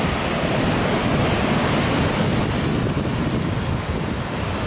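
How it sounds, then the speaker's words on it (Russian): Big ocean surf and steady wind roar together at Cabarete beach, a windsurfing and kitesurfing spot in the Dominican Republic, with a loud, continuous wash of noise close by and no voices. "Тут большие волны, немного ветрено"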